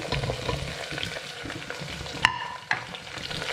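Onions fry in a pan for chicken pulav, giving a steady close sizzle with stirring scrapes and two sharp metallic clinks of a utensil against the pan. No one talks.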